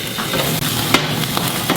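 Bacon fries in an uncovered pan with a loud, continuous crackling sizzle, its bursts of popping spatter punctuated by occasional sharper snaps from close range.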